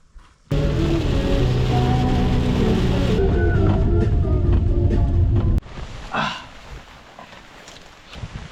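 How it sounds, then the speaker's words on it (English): Rain pounding down at a campsite on a tiny lake island, a loud dense wash of drops for several seconds that then drops to lighter, softer patter with scattered closer splashes. "the rain has actually settled down quite a lot, but it has been pounding all day"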